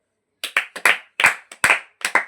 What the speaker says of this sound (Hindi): बहुत बढ़िया, ताली बजाओ भाई।